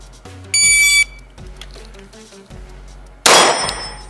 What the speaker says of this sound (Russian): Я просто сказал, что дам сигнал таймера.